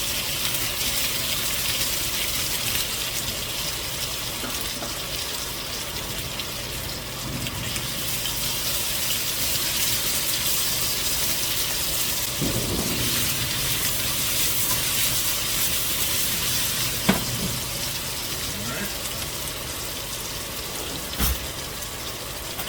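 Bacon and sun-dried tomatoes cook together in a pan, giving a steady, continuous sizzle and hiss that runs for the whole stretch, with a few faint clicks and clatters near the end.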